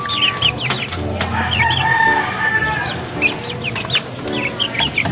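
Heritage chickens cluck close by while a rooster crows in a busy, layered barnyard mix, with sharp calls scattered over a steady murmur.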